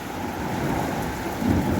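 Heavy rain pours steadily during a thunderstorm, a dense loud wash of noise with a faint low rumble of thunder swelling near the end.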